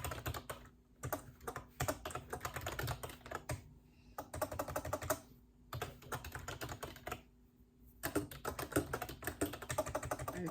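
Rapid typing on a computer keyboard during a writing sprint, dense clattering keystrokes in bursts separated by brief pauses, close and moderately quiet.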